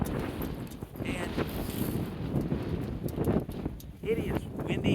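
Gusty outdoor wind buffets the microphone with a rumbling, fluttering roar that rises and falls throughout, while someone talks over it.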